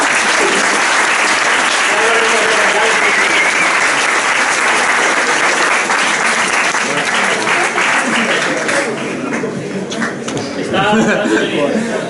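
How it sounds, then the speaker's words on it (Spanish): Sustained audience applause fills a crowded room at a book presentation on trap music in Valencia, loud and dense throughout, easing slightly near the end. "yo para empezar un aplauso a este señor"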